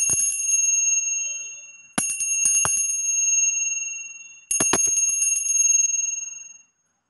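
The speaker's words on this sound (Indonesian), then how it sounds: "saya akan meramalkan dengan ditandai lonceng berbunyi" A bell is struck three times at uneven intervals. Each strike rings out clear and bright, then slowly fades before the next one, with no other sound around it.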